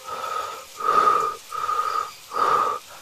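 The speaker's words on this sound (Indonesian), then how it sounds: "Napasnya berburu kencang." Heavy, fast, frightened breathing close to the listener, four raspy wheezing breaths in a steady in-and-out rhythm with no talk.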